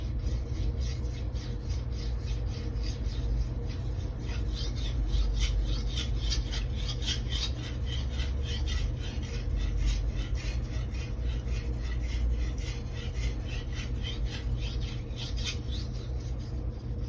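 Knife of Aogami super steel rasped steadily along a fine polishing whetstone in long, rhythmic strokes, close and even, without talk.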